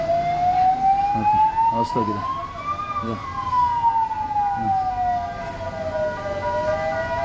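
An ambulance siren wails loudly at the Thalappadi Karnataka border after an accident, rising and falling over road traffic noise while someone talks.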